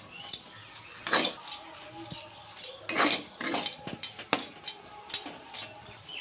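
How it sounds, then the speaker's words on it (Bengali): A spoon stirs semolina upma in a pan after water is added, giving intermittent scrapes and metallic clinks in short bursts. "জলটা দিয়ে কিন্তু এইভাবে নাড়াচাড়া করব।"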